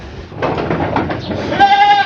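Goats on a farm bleat loudly and continuously as they are let out, many overlapping cries forming a dense chorus with a sustained higher-pitched call near the end.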